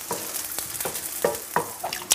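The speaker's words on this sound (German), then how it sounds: "Die Hilcona-Gnocchi sollen ausschließlich in der Pfanne gebraten werden." Hilcona gnocchi frying in a pan: steady sizzling with repeated sharp scrapes and clacks of stirring, close and fairly loud, no talk.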